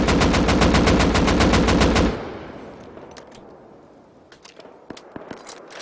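A rifle fitted with a muzzle brake fires a rapid, steady automatic burst of about a dozen loud shots in Rust. It stops abruptly, leaving scattered faint clicks and ambient game noise.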